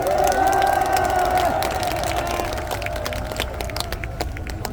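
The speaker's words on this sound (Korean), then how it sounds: "모든 분들께 여러분 격려의 박수 한번 보내주십시오." Crowd applause and cheering at a large outdoor rally in Ulsan, loud sustained clapping under high shouts and whoops, with a tonal horn-like or sung drone in the opening seconds before the noise slowly eases.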